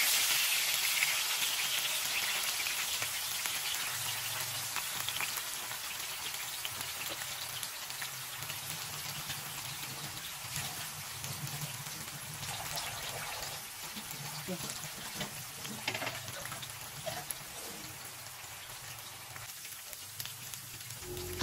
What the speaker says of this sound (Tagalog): So ayan, pinirito ko na nga.